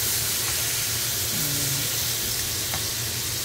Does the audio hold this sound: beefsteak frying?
yes